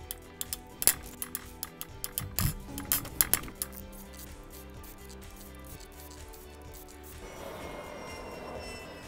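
Metal tools clink and rattle sharply while cylinder head bolts are loosened with a 10 mm double hex socket on a Toyota MR2 Spyder 1ZZ-FE engine, followed by quieter handling over a low background hum.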